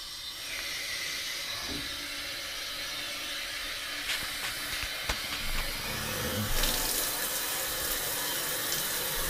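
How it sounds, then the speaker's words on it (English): Water runs steadily through a Propur ProMAX shower filter on the shower setting, a continuous hissing rush that grows a little louder and rougher toward the end, with a few faint knocks. "I'm gonna turn the water on slowly. We're gonna start by turning it to the shower setting."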